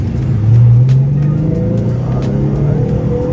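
Nissan 370Z Nismo with a new clutch, engine revving from inside the car as it shifts gears: a loud, rising drone that swells early, eases and climbs again, with faint clicks over the top.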